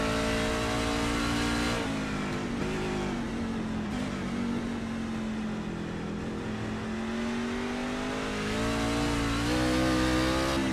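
A race truck in a racing video game laps Watkins Glen from onboard, its engine droning loud and steady, pitch sagging and then climbing as it accelerates, with no voices over it.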